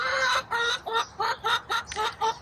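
Backyard hens cluck in a steady series of about eight short, close, nasal calls with brief gaps between them, clear and alone with no talking.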